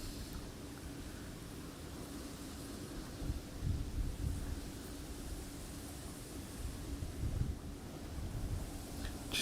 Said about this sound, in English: that wind is such a pain.